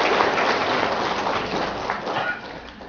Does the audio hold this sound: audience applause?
yes